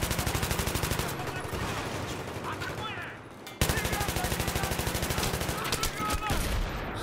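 Rapid bursts of M249 machine gun fire in Battlefield 3 multiplayer on the Operation Metro map, loud and close, with a steady rattling cadence that pauses briefly mid-way before resuming.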